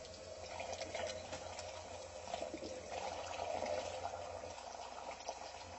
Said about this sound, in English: So with my screwdriver I'm opening the valve counterclockwise, and that should start pushing water out the hose.